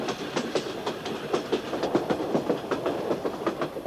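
A train runs along the railway through the Inca Sacred Valley in Peru, its wheels beating a steady, rapid clickety-clack over the rails, moderately close and continuous with no voices.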